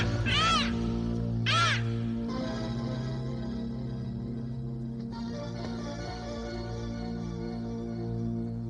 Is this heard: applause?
no